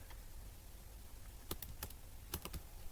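Typing on a computer keyboard while coding in Python, quiet at first, then a cluster of crisp close key clicks in short bursts, no talking.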